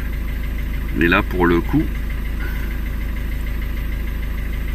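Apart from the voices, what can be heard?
Ford Focus engine restarting and idling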